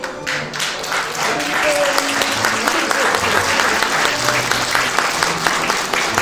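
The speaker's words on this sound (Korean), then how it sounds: "화촉을 점화할 때 축하의 박수 부탁드리겠습니다" Wedding guests in a wedding hall applaud as the candles are lit, sustained dense clapping from a full room that carries on evenly, with a faint low murmur underneath.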